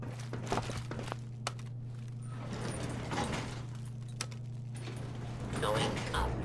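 An elevator in the video game Fallout 4 rises with a steady low mechanical hum. Clanks, ratcheting gear sounds and scattered footsteps come through over it, and a voice speaks briefly.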